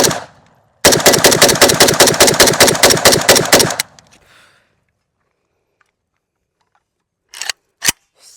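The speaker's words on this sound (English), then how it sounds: "Every slam of that bolt is less and less appealing." Draco Tactical pistol firing a fast burst of sharp, loud shots as the bolt slams with each round, followed by silence and two brief metallic clacks of the action.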